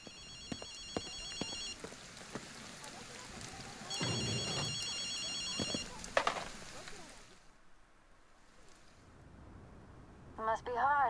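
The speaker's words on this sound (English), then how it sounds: "you can hear the phone ringing." An old payphone rings in the Ghostwire: Tokyo video game, two bursts of bright repeated bell trills sounding over ambient game noise and occasional thumps, then a quieter stretch.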